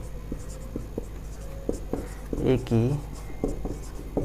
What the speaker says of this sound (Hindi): अब हम यहाँ एक लाइन और लिखेंगे